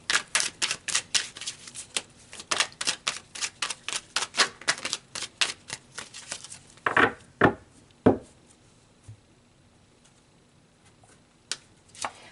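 Tarot cards shuffled in a rapid, even run of close, crisp riffling snaps, then a few separate slaps as single cards are pulled and laid down, no speech.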